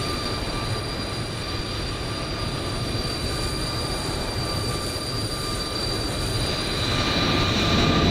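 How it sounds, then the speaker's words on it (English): In Microsoft Flight Simulator 2020, an Airbus A320 jet takes off with a continuous, dense engine roar and steady high whine that grow slightly louder toward the end, with no talk over it. "There goes the 320."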